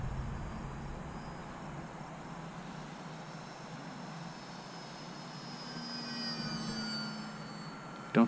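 A small foam RC trainer airplane flies at a distance outdoors, its faint, steady motor drone carrying on throughout, with a short louder bump right at the end.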